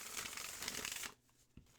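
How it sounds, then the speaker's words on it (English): A matte laminated tarot deck is shuffled in one quick, soft riffle of papery flutter that stops abruptly, followed by quiet handling. "It's not super hard to shuffle."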